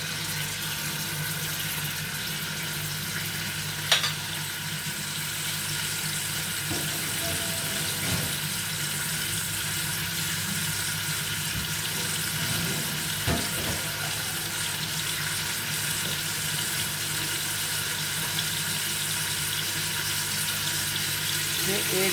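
Water poured from a glass into a cooking pot holding raw mutton with onion, salt, chili, turmeric, garlic and ginger for Kashmiri palak gosht, a steady pouring splash in a kitchen, close and continuous.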